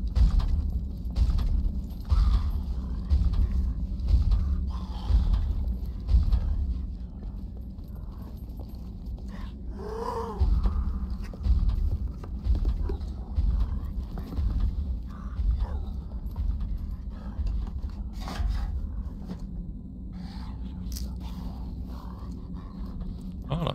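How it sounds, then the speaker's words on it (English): Horse hooves clopping and shuffling in the video game Scum, with a brief whinny around the middle, steady low rumble of movement throughout at moderate loudness. "What the hell spooked the horse?"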